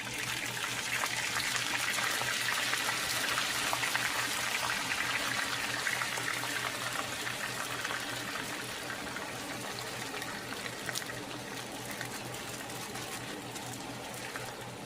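Loose frozen sweet corn kernels cooking in melted butter in a pan, a dense steady hiss and sizzle that holds at a constant close level and eases slightly toward the end, with no talking.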